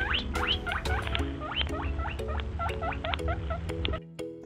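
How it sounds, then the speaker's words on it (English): A rabbit sound: quick repeated high squeaks and chirps over a steady low rumble, close and moderately loud, ending abruptly. "Rabbit."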